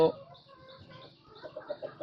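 Native desi hens cluck in short, soft bursts, fairly close, with a brief louder sound at the start and quiet pauses between clucks.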